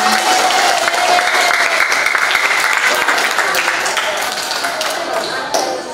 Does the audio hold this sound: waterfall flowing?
no